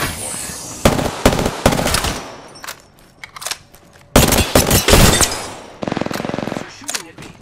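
Prowler burst-fire weapon shooting in an online shooter game, with loud rapid bursts of gunfire in two main clusters separated by a brief lull and a few lighter shots trailing at the end.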